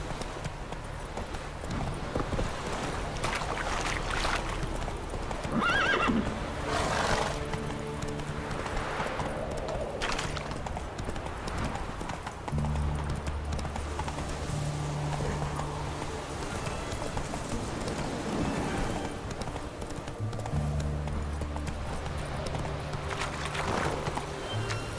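A horse in The Witcher 3 gallops with rhythmic clip-clop hoofbeats in quick bursts, and an occasional whinny rises over the hooves at a moderate distance.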